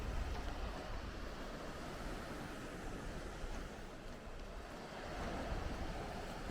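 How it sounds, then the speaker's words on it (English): Surf washing onto Playa de Maro beach in Nerja, Spain: a steady, soft roar of waves with gentle swells, some wind buffeting the microphone, and no talking. "We made it down onto the beach."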